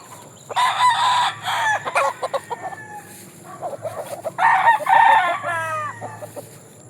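Two roosters crow loudly in turn, each call rising and trailing off, with hens clucking in the background between them.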